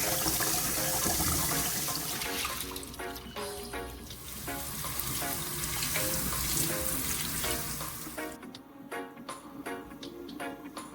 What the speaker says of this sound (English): So you wash your rice like 3 to 4 times, okay? So the water is nice and clear.